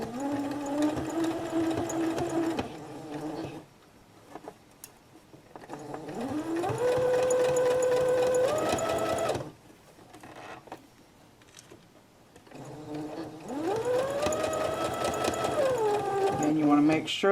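Sewing machine stitching a fabric face mask in three long runs, each ramping up to a steady whirring hum and cutting off, separated by quiet pauses; close and fairly loud.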